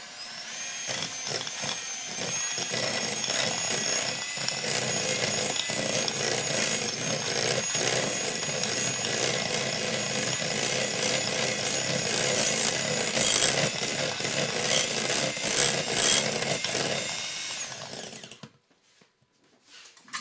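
An electric mixer whirs loudly and continuously as it beats cream cheese and butter together, its steady motor drone shifting slightly in pitch before cutting off near the end.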